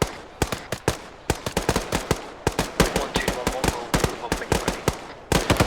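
Gunfire in a firefight, with dense rapid cracks of shots in bursts and irregular volleys, loud and close, continuing almost without pause and with a voice faintly under it.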